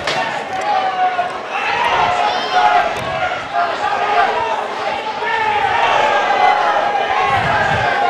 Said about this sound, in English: The crowd loving it here at the final bell.